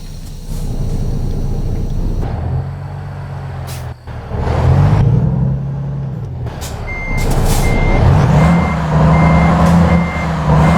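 Truck in American Truck Simulator with a steady run of high reversing beeps over a loud engine rumble, with short sharp air-brake hisses and the engine revving up and settling, no talking.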